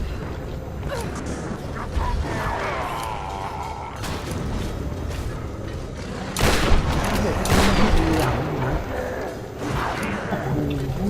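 Gunfire from the Tomb Raider video game comes in scattered bursts and booms over background game noise, with a louder cluster of shots midway, while a player talks over it.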